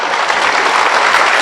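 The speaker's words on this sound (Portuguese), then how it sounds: "Podemos aplaudir Jesus?" Dense, steady applause from a church congregation fills a historic anniversary service, with many hands clapping close and loud throughout and no pause.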